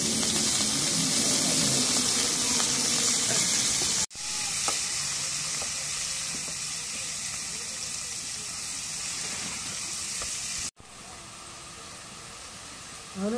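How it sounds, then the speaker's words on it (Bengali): Broad beans with onion and chili frying in hot oil, a loud continuous sizzle close by that briefly cuts out twice, then resumes slightly softer, with occasional stirring scrapes and no speech. "এখন এই যে পেঁয়াজ মরিচ দিয়ে নেই সিম ভাজি করুন"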